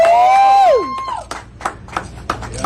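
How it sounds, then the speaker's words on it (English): A small group claps at a dancehall fundraiser after a large check is presented for a performer's health care; scattered, uneven hand claps follow a sustained sung or held vocal tone, with voices talking over them. "Clap again."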